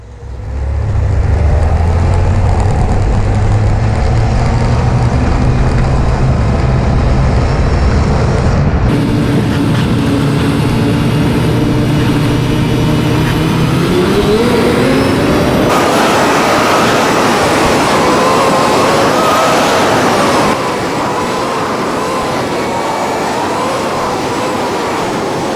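A vehicle rolls down a boat ramp into Kotzebue Sound on the Chukchi Sea in Alaska and crosses the water, a loud, steady engine drone that shifts and rises in pitch midway, with no talking.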